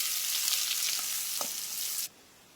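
Chopped onion hits pure mustard oil already holding cinnamon, cardamom, dried chilies and bay leaf, giving a bright, loud, continuous sizzle that cuts off abruptly after about two seconds.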